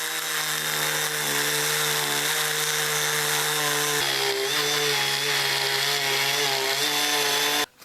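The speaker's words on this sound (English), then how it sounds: "And I'm going to do that with my Dremel." A Dremel rotary tool cuts a groove into a wooden fishing lure. Its loud, steady high-pitched whine holds close and continuous, shifting pitch once midway as it bites into the wood, then cuts off abruptly at the end.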